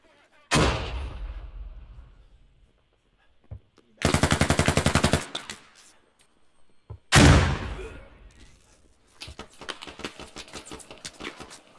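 A grenade going off in the Squad military shooter, a sharp close blast decaying into rumble, followed by a dense stretch of rapid gunfire, a second heavy blast, and scattered shots trailing off.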